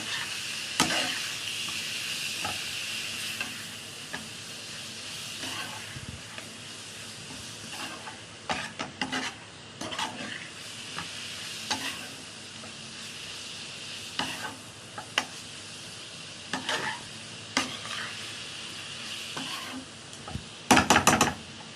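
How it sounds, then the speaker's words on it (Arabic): Chicken, onion and spices fry in a pan while being stirred, giving a steady sizzle broken by repeated scraping and clacking strokes of the utensil against the pan, close and clear. "واقلب كده البهارات والفراخ والبصل"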